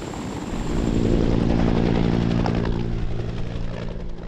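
A Japan Ground Self-Defense Force military helicopter drones loudly, its rotor and engine giving a steady pulsing hum that swells and then fades slightly.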